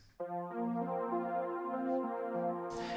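A warm, buzzy retro synthwave synth patch plays a short melodic line of held notes, sounding alone with a slightly gritty tone.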